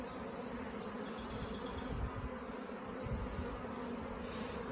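Honey bees leave bee escapes and fly back to their hives in spring, a soft continuous buzzing hum of many insects with faint low rumbles underneath.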